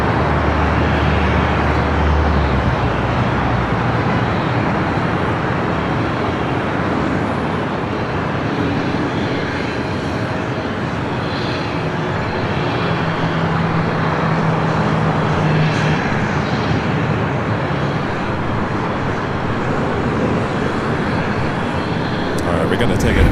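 An Asiana Airbus A380 rolls down runway 25 Left at Los Angeles International Airport, giving a steady, loud broadband jet roar that holds for the whole stretch, with voices talking over it.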